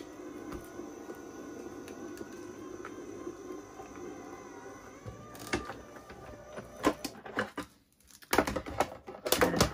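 Sizzix Big Shot Express electric die-cutting machine feeding large dies and thick chipboard between cutting pads, giving a quiet steady motor hum with soft clicks and clunks, then a run of louder irregular knocks and rattles near the end.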